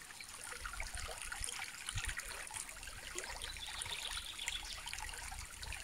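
A river current flows with a steady, soft trickling and babbling, fairly faint and continuous with no voices, near a river island behind a church in Veretyevo.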